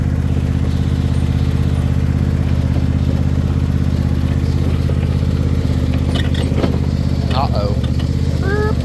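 Lawn mower engine running at a steady drone while mowing a yard, loud and close throughout, with a few faint higher sounds near the end.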